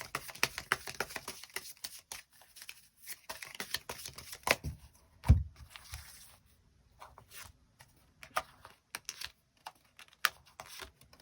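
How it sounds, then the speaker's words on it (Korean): Tarot cards being shuffled and drawn by hand, a rapid papery riffling and clicking at first, then scattered soft flicks and taps as single cards are laid down, close and fairly quiet with pauses between. "추가 카드 뽑아보도록 하겠습니다"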